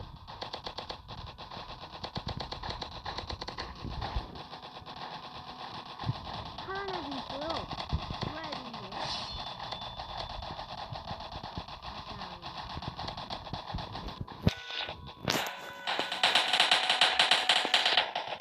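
Rapid, continuous automatic gunfire from a Roblox zombie video game rattles on steadily under a talking voice, growing louder and harsher near the end.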